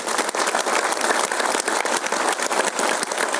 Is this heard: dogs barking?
no